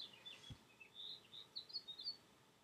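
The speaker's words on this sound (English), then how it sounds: "The birds that live in my yard are so vocal that, and they sing so loud" Small birds chirping and singing in a backyard, a run of high, bright tweets that grows busier toward the end, fairly close and clear over a quiet background with one brief low thump near the start.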